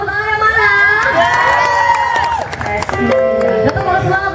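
A live concert crowd at Padang Fair 2013 in Padang cheers and shouts loudly and steadily, with scattered clapping and screams layered into a dense, close roar throughout.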